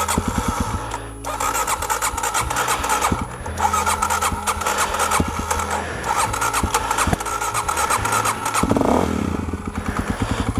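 An adventure motorcycle cranks and sputters repeatedly while trying to start, rapid rhythmic churning close and loud with brief pauses between attempts.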